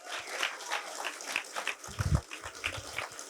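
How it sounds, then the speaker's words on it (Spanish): Audience applause at a Fuckup Nights event, a crowd clapping in a dense, irregular patter with a low thump partway through and some voices mixed in. "¡Un aplauso, chingado!"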